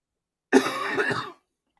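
A single short, harsh cough, close and loud, lasting under a second and followed by silence.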